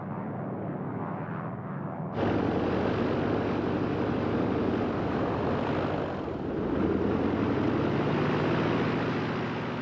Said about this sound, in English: Most of those were the three-engine Savoia Marchetti Sparrowhawks.